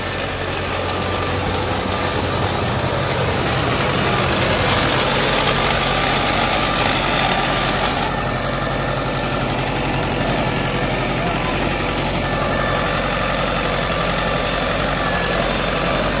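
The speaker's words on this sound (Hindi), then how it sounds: "देखो भाई इब स्लिप काट रहा है ट्रैक्टर" Tractor engine running under load while pulling an 18-disc harrow, wheels slipping; a steady, loud, droning rumble with constant vibration and no pauses.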